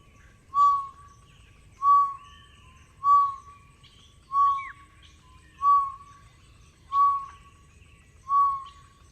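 A wild bird in an African field recording gives a clear, whistled call, repeated seven times at an even pace of roughly one and a half seconds, each note crisp and close against a quiet background.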